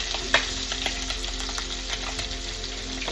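Chicken feet cooking in a pot give a steady close sizzling and bubbling with small pops, continuous and fairly quiet, with no talking.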